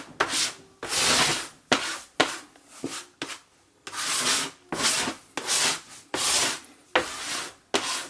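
A scraper is dragged repeatedly across a floured work surface while making croissant dough, rhythmic rasping strokes about a second long separated by short pauses, close and clear with no talk.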